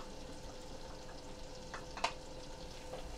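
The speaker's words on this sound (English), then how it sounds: "And we're going to cook these till they almost caramelize." Half a cup of finely minced onion frying in a pan, a quiet, steady low sizzle with a few small pops and a brief clatter near the middle.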